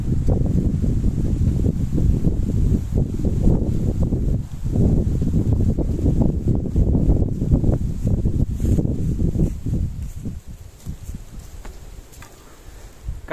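Strong, steady wind roars and buffets in a mountain settlement, loud and continuous with gusty surges, easing somewhat toward the end.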